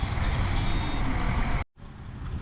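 A farm truck hauling harvested corn backs up with a steady engine rumble. Reversing beeps sound under the engine, and the noise cuts off briefly near the end.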